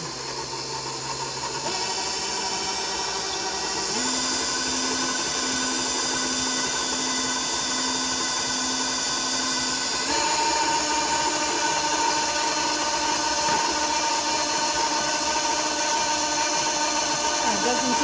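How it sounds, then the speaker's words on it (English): An electric mixer runs steadily, creaming butter and icing sugar for shortbread dough, with a constant whirring motor hum that shifts up in pitch partway through as the speed increases, close and continuous. "then you can turn up the speed and let it mix till it's nice and creamy"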